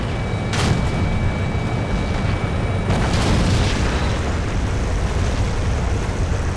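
Tank gun shots from the AT-15 in a video game, two heavy booming blasts a few seconds apart over constant loud engine and battle rumble, with no talking.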